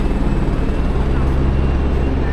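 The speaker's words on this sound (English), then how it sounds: "All the little helicopter rides are going off." Low continuous rotor and engine drone from sightseeing helicopters taking off over the Skagway, Alaska cruise port, steady and fairly loud throughout with no voices.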